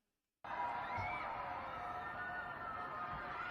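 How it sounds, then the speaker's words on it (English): Shanghai residents under total lockdown scream together from apartment windows. After a brief silence, a dense, continuous roar of many distant voices rises and holds steady throughout. "people in Shanghai screaming out their window because of total lockdown together"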